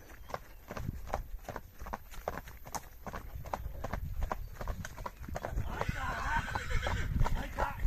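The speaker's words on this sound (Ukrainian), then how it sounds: "Як вони поцокують, це капець" Hooves of Belgian draft horses clip-clopping in a steady walking rhythm, several animals close by, with a low rumble and occasional chatter of people nearby.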